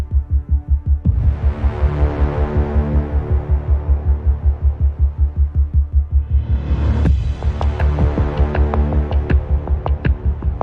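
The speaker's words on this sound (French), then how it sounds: "Le WC300, une machine puissante, a pour mission de dégager la voie enneigée." A WC300 snow-clearing machine clearing a snowbound track runs with a loud, deep engine throb that pulses rhythmically. Partway through, a harsher grinding roar swells in over it.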